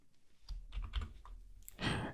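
Computer keyboard keys pressed during a Linux terminal session, a short run of soft clicks followed by a sharper, louder burst near the end, close by with no talk.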